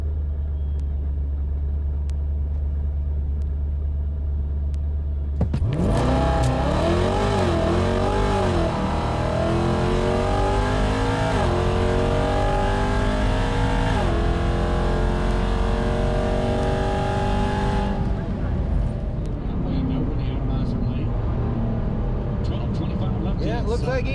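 A drag race car roars off the line at about five seconds, engine revving hard through several gear changes before backing off; a loud, close launch after a quiet idle at a drag strip.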